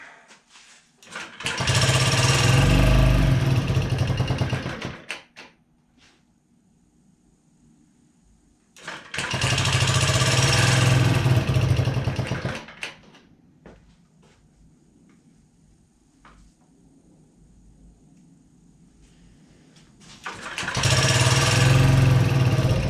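A Honda Met scooter engine runs in three separate bursts of steady, close idling, with quiet gaps between them and no one talking.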